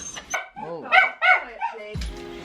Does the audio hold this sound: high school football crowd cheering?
no